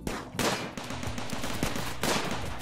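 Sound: gunfire from defensive guns in RimWorld video game

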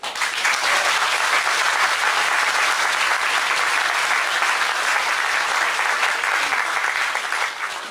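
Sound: applause

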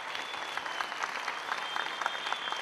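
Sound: audience applause

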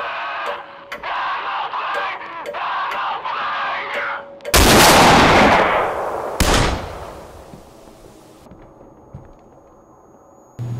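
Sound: gunshots in video game Z.FG demo

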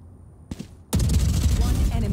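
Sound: suppressed gunfire in the video game Valorant

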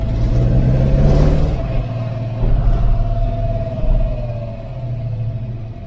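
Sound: Ford Maverick V8 engine running rough, misfiring

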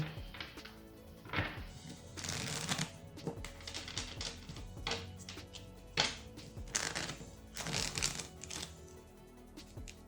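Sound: tarot cards being shuffled

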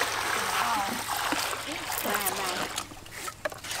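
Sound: pouring water to soak bananas

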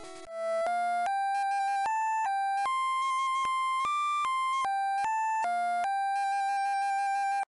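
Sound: Poké Flute music playing in video game Pokémon Red

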